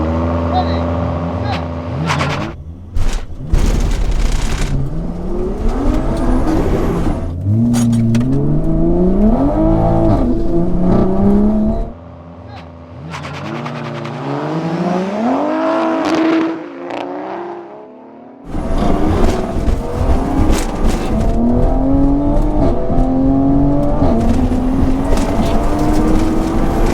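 A 700HP MK4 Supra and a 550HP MK5 Supra accelerate side by side in a drag race, loud engines climbing through repeated gear changes with rising and falling pitch, while voices talk over the roar.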